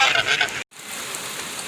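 Rain falls steadily during a storm where ducks and geese are outdoors, a close, even hiss that cuts out for a moment and then resumes at a slightly lower level.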